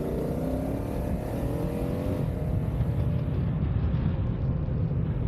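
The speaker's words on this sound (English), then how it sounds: "Hopefully you're picking up the engine tone." Steady motorcycle engine drone while riding, recorded through a helmet intercom, a continuous low rumble with rushing wind noise, loud and close throughout.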